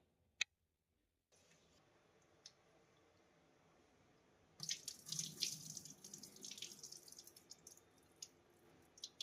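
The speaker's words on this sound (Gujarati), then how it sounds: "ચોખા ધોઈ લઈશું, ધોઈને પલાળીને રાખી મૂકીશું" Rice being washed in water for jeera rice: a faint click and near silence at first, then quiet splashing, swishing and dripping in a sink, soft and close.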